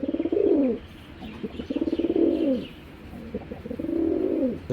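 Pigeons coo in three drawn-out, throaty rolling phrases with short pauses between them, close and clear, with a few faint chirps in the background.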